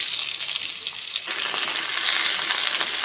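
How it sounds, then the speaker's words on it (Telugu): Shredded cabbage frying in oil in a kadai, a steady loud sizzle that starts softer and turns denser and more intense partway through, with no talking. "ఇప్పుడు ఇదే కడాయిలో కొంచెం నూనె పోసుకొని దీంట్లో వేసేసుకుందాం."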